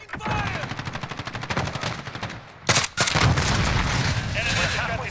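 Rapid automatic gunfire in Call of Duty Modern Warfare, a dense rattling burst of shots for several seconds, then a sharp louder crack and sustained heavy firing, with a voice speaking over the shooting.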